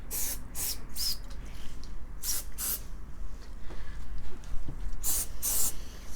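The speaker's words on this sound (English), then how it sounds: "Do want to spray the inside as well" Apple Garde protector is sprayed inside a Louis Vuitton bag in several short, sharp hissing bursts, close by, separated by quieter handling noise.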